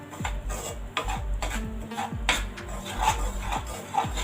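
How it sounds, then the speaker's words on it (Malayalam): Semolina (rava) being stirred and roasted in a pan for sweet kesari, repeated scraping strokes of a spoon against the pan in an uneven rhythm, close and clear, with no talk. "ഇപ്പോൾ നന്നായിട്ട് ഈ റവയെ നമുക്ക് റോസ്റ്റ് ചെയ്തെടുക്കാം."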